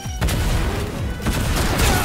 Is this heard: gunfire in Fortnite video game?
yes